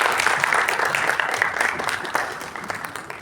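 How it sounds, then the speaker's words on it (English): Audience at a seminar gives a dense round of clapping that holds steady and fades slightly toward the end, close and unbroken. "Let's welcome him with a huge round of applause"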